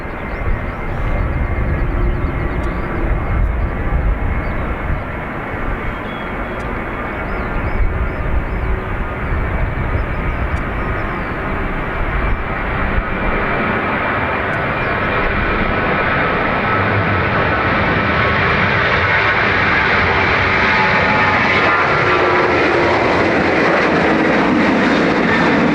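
KLM 1140 on runway 28 right at Dublin Airport, a loud continuous airliner engine roar that holds steady and builds slightly as it lines up and powers up, heard alone without voices.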